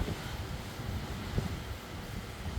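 Steady wind roars and buffets the microphone in early morning on Lanzarote, a broad rushing noise with occasional low gusts thumping through, no voices.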